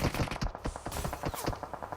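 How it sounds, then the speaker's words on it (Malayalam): Rapid gunfire from a video game session, with dense bursts of shots crackling continuously over about two seconds at steady loudness. "ഇവിടെ അപ്പുറത്തുനിന്ന് വെടിയൊക്കെ ഉണ്ട്"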